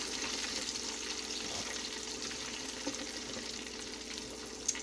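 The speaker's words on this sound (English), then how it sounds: "the chicken is frying right along" Chicken legs fry in hot oil with a continuous soft crackle and hiss, close but quiet, a couple of small pops near the end.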